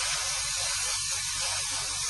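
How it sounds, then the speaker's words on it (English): An airbrush with its trigger pulled fully forward blows a steady, close, continuous hiss of air over painted parts of a 1/32 Trumpeter Corsair model to dry them. "airbrush trigger all the way forward and just drying this off"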